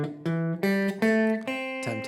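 A C pentatonic scale runs upward note by note on a guitar: root, 2, 3, 5, 6 and back to the root, giving the melody of a song as six clear, close, sustained plucked notes.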